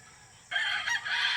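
A hen about to lay eggs breaks into loud, close, agitated clucking that starts suddenly after a brief quiet moment and continues in noisy, insistent bursts.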